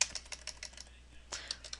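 Quick bursts of typing on a computer keyboard, with soft, fast key clicks in two short runs split by a brief pause. The sound is close and fairly quiet.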